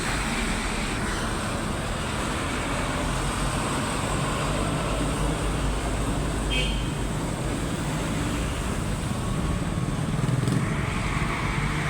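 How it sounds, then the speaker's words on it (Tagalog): Continuous road traffic noise, a steady low rumble of passing vehicles with a few louder swells, heard from nearby. "Ingay ng sasakyan."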